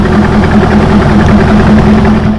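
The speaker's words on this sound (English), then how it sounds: "I hope you guys enjoyed that beautiful exhaust note." A Corvette with a modified exhaust idles close by, a loud, steady, deep rumble with an even throbbing pulse that holds throughout and tapers slightly at the end.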